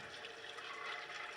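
Rising water in the video game Limbo gives a soft, steady rushing and gurgling, faint and continuous with no speech.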